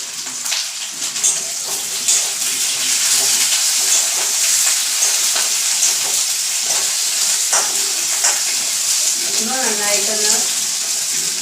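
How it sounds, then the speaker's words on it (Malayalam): Okra (ladies' finger) frying in a pan for a Kerala-style theeyal gives a steady, loud sizzling hiss with scattered stirring clicks, and a brief voice sounds near the end. "അപ്പോൾ വെണ്ടയ്ക്ക വറുത്തെടുക്കാം"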